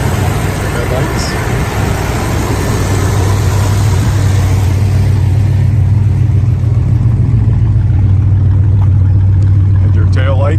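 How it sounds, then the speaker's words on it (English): Muscle car with dual exhaust idling, a loud steady low rumble that holds throughout with no clear revs, close by. "And your tail lights and the dual exhaust. It's got a nice sound to it."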